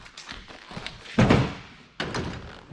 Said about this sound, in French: Déjà une porte de démontée.